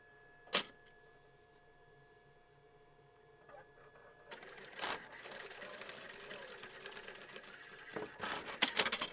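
A sewing machine stitches a seam along lace on an apron, starting after a single sharp knock and running as a rapid mechanical whir for the last few seconds, fairly close and moderately loud.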